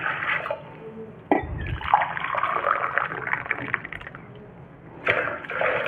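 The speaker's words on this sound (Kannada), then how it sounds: "ನೀರು ಹಾಕ್ತಾಯಿದ್ದೀನಿ." About three glasses of water pour into a pot for a kadubu dough, splashing and gurgling in uneven surges with a sharp slosh partway through and a fresh burst of pouring at the end.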